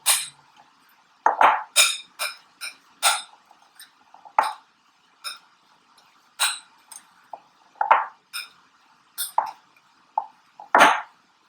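Sushi rice being mixed with furikake seasoning in a bowl for vegan dynamite sushi rolls, a series of sharp intermittent scrapes and clinks from a utensil against the dish, close and irregular, separated by quiet gaps.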